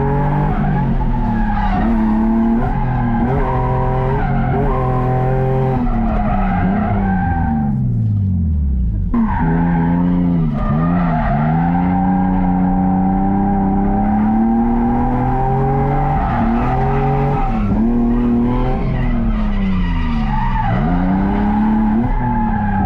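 Two cars drift in tandem at a drift event, sustained engine roar with shifting revs and long tire squeals, loud and continuous from inside or near the car.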